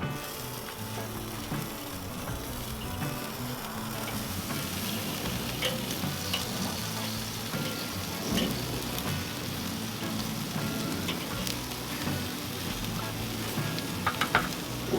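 Chicken wings sizzle steadily over hot coals on a Weber kettle grill, a dense continuous crackle and hiss that stays fairly loud and even throughout, with occasional sharper pops near the end.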